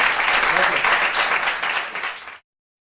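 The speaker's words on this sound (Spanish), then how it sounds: "Un aplauso para él." A university audience gives a steady round of applause for a journalist and professor, close and even, ending abruptly.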